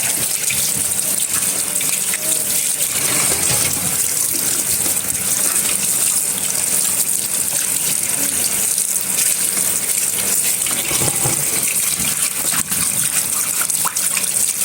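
Tap water runs steadily and loudly over boiled beef liver being rinsed, a continuous close gush of water splashing into a sink for the whole stretch with no talking.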